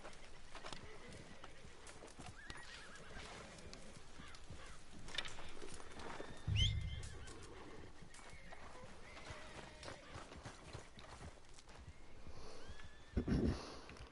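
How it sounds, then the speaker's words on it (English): A horse in the video game Red Dead Redemption 2 whinnies once mid-clip and clip-clops along over a steady background hum, with a second brief snort or neigh near the end. "Love how gracious my horse is"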